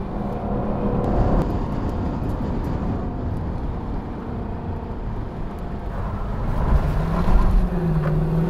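A 2021 Lexus LC500 convertible's engine and exhaust rumble low and steady while driving, with road and wind noise and a slight swell near the end, no talking.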